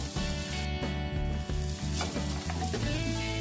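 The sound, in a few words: roasting grated coconut with masala in a pan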